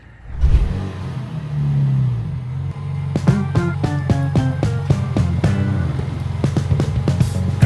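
A 2026 Dodge Charger's engine turns over and idles with a deep, loud rumble close by in a garage, then settles into a steady throb with rhythmic revving pulses as the car creeps forward.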